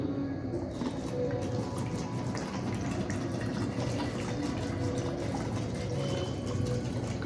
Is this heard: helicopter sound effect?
no